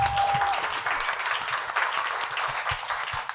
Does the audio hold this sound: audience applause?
yes